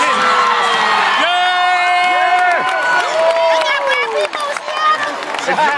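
A crowd at a gospel concert cheers and shouts loudly and continuously, with whoops and raised voices layered over sustained musical tones throughout.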